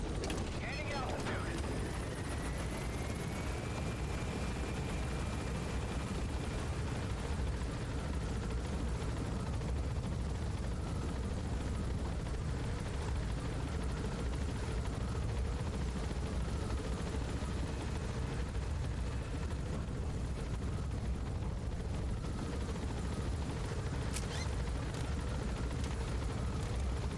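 Helicopter gaining altitude in the video game Metal Gear Solid V: The Phantom Pain, a steady, dense rotor and engine roar filling the whole stretch without letup.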